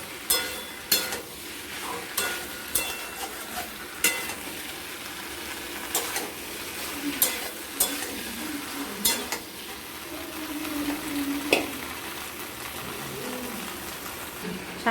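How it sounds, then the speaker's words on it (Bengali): Fried vegetables sautéed in spice paste for mixed paneer, with a spoon clacking against the pan in a regular rhythm of roughly one stroke per second over a continuous soft sizzle. "এরপর এর মধ্যে দিয়ে দেবো ভেজে রাখা সবজিগুলো, দিয়ে আরও ভালো মতো করে কষবো।"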